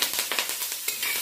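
Chopped onion sizzles in a pot with bits of lion fish for a brown stew, a steady close frying hiss with small bursts of crackle and no talk.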